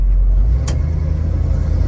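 A 1967 Chevrolet Chevelle with a 396 engine rolls into a dealership building, its deep V8 idle burbling loud and close with a rhythmic low pulse, a brief sharp click partway through.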